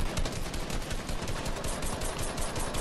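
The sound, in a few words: gunfire in a video game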